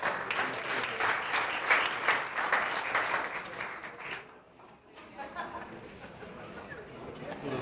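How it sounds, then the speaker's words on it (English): An audience at a county prosecutor's office Black History Month celebration breaks into brisk, dense applause that stops abruptly partway through, after which a murmur of voices and light room noise continue. "Give him a round of applause"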